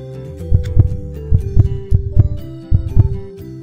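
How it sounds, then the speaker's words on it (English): Synthetic baby heartbeat in a Disney princess doctor video game, steady paired thumps repeating about four times, deep and loud over a soft musical tone. "baby heartbeat is normal"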